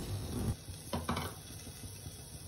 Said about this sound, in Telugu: కడాయి పెట్టుకొని ఆయిల్ వేసుకోవాలి. తర్వాత ఆనియన్ చిల్లీ వేసుకొని ఒక 2 నిమిషాల పాటు మగ్గించుకోవాలి.